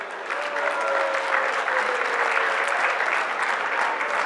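Loud, sustained applause from the audience at the Furaha 2017 closing ceremony, a thick continuous clapping crowd held at an even level from start to finish.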